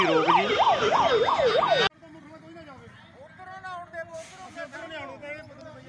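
A loud, close ambulance siren rises and falls rapidly for about two seconds on a street in Nabha, Punjab during a shutdown, then cuts off abruptly into quieter background voices.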